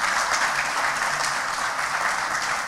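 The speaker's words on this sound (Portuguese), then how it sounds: "Gente, eu gostaria de uma salva de palmas para o nosso brigadeiro," An audience at a technology management conference session applauds continuously. The dense, steady wash of clapping is fairly loud and fills the room, with no speech over it.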